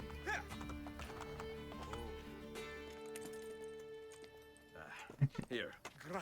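Horse hooves clip-clop steadily in Assassin's Creed Brotherhood, with a horse neighing loudly near the end, alongside game music.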